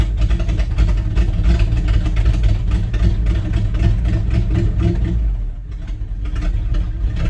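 A Dodge Power Wagon truck engine runs steadily just after a cold start, a loud, close, continuous rumble that dips briefly near the end before settling back into its idle.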